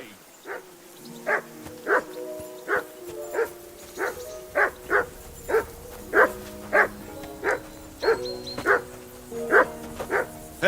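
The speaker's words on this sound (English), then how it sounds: "Call off that mutt of yours!" A dog barks in the video game Kingdom Come II, a steady run of sharp, evenly spaced barks close by, with a voice talking in between.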